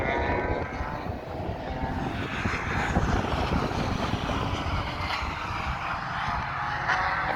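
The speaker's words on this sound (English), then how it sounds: "M series BMW, lovely sound." A BMW M series race car engine drones from a distance at Thruxton during a cold Classic Sports Car Club meeting, heard from the top of an embankment as a continuous, coarse rumble that slowly swells and fades.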